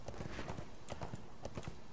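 Horse hooves clip-clop at a steady walking pace in the online game ArcheAge, a close, regular series of hoof strikes over a dense game soundscape with no talk.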